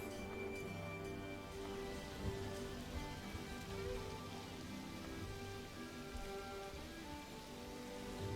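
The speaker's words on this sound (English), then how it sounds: "it literally just meant that I was getting rained on" Steady rain pours down in the video game Outward, a constant soft patter heard up close alongside the game's layered musical tones.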